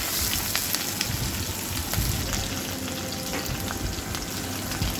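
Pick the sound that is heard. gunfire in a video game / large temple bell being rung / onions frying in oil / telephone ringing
onions frying in oil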